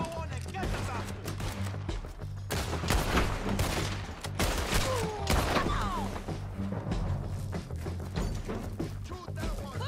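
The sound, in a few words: gunfire in video game Red Dead Redemption 2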